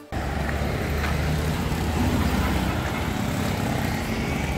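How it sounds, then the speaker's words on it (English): Heavy road traffic on the way to Bancasi airport in Butuan City: a continuous broadband roar of passing engines and tyres, steady and fairly close, with no voices. "traffic is bad over in this area, a lot of traffic"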